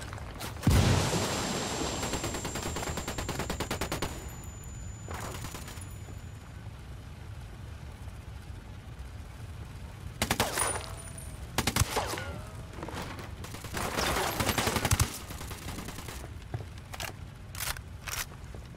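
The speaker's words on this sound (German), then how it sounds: "Schießt weiter." Gunfire in the tactical shooter Ghost Recon Wildlands: scattered bursts of rapid shots and single cracks in a running firefight, heaviest at the start and again in clusters later, over a constant low background rumble.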